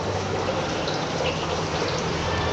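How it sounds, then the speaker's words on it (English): A small indoor waterfall in a resort lobby, a steady, even rush of falling water close by, continuous with no breaks. "Here you have a nice little waterfall"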